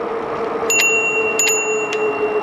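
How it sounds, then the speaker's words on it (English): Bicycle bell on an e-bike rung at pedestrians on a bike path: two quick double dings followed by a single ding, bright and close over a steady hum of riding noise. "I'm going to hit them with the bell a couple times"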